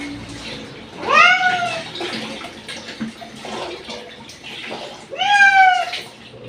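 A cat meows loudly twice, a few seconds apart, while being bathed, with splashing water and soft handling noises in between.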